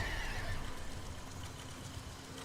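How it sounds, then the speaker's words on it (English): Horses neigh in the Warframe video game, a shrill whinny near the start followed by more calls within a busy, noisy game soundscape, at a moderate level with no talking. "Horses!"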